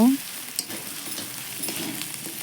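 Ginger, garlic and turmeric frying in a pan with a steady close sizzle, broken by a few scraping stirs and knocks from a spoon against the pan.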